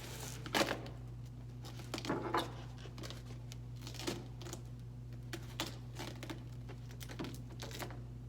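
Adhesive tape is pulled and pressed around a container starting at the hinge to seal it shut for winter seed sowing, making quiet, close rips and crinkles at irregular intervals over a low steady hum.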